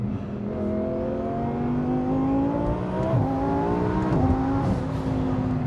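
A 1300-horsepower twin-turbo Audi R8 accelerating hard, its engine note climbing steadily through the revs with a brief shift-like dip, loud and close with no talk.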